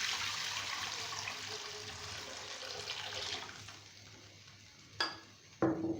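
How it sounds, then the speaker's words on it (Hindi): Water is poured into a pot of rice for chicken tikka pulao, a steady rushing splash that tapers off, followed by two short clinks of the pot or utensil. "मैंने 2 गिलास चावल लिए हैं तो मैं उस हिसाब से 4 गिलास पानी डाल रही हूँ।"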